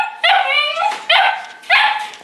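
A small puppy in a crate gives three high, yelping barks in steady succession, close and loud, with no talk.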